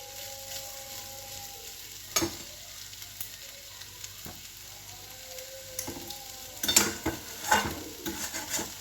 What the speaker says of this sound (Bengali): আর এটা মুড়ি খাবার আলু ভাজা